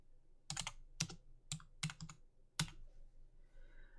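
Keystrokes on a computer keyboard, five separate clicky presses spaced irregularly about half a second apart, close and clear in an otherwise quiet room.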